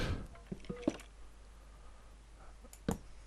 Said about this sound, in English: Is that water I can hear?